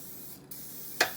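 A short, bright burst of coconut oil cooking spray hits a baking pan for chocolate brownies, one quick hiss near the end over a quiet kitchen background.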